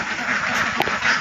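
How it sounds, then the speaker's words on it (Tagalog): A flock of ducks quacks nearby in the countryside, with a brief burst of overlapping calls over a steady outdoor background. "Ang daming itik oh."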